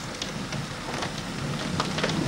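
Rain falling steadily during a thunderstorm, a dense, even hiss of drops that carries on without a break throughout.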